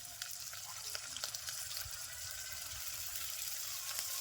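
Onion and chilli frying with ginger-garlic paste in a home kitchen, a soft continuous sizzle with faint clinks, fairly quiet and low throughout.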